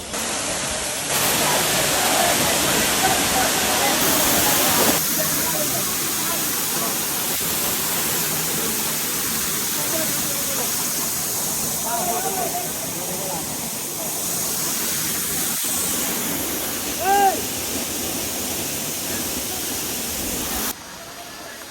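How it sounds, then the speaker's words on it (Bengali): Steady broadband roar of Sahastradhara waterfall, a constant rushing wash of falling water heard close and loud throughout, with faint voices occasionally audible beneath it. "তো এটা কিন্তু ছিল সহস্রধারা ঝর্ণা"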